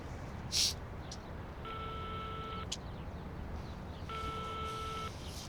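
Telephone dialing tone during a call, two long steady tones separated by a pause, fairly clear over a faint background hiss with a brief bump of noise near the start.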